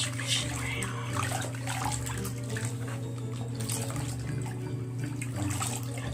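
A hand swishes a deviled egg bath bomb through bathtub water, giving soft continuous sloshing and trickling splashes close by, over a steady low background hum.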